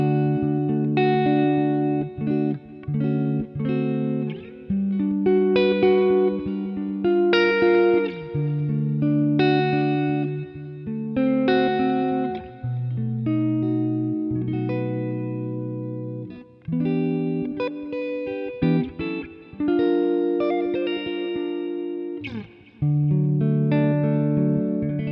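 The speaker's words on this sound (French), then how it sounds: "Je vais venir mettre une reverb un peu plus fat avec un petit délai." Clean electric guitar through a Boss Katana Gen 3 amp playing chords and melodic lines, washed in reverb with a short delay trailing the notes.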